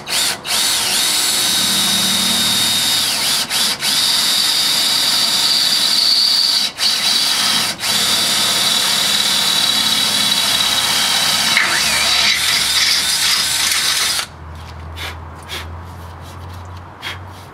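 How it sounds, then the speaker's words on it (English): A power drill with a 19/64 bit bores a hole for a 10-24 rivet nut in an aluminum upper radiator support for a 73-87 Chevy C10, heard as a loud, steady whine for about fourteen seconds, briefly dipping, then cutting off. "We're going to drill a hole, and then we'll install our little nutzert."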